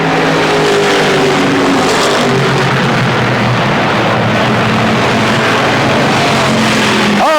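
Stock cars race at Motordrome Speedway in 1992, a loud, continuous roar of several engines at full throttle with rising and falling revs as the field comes off a turn.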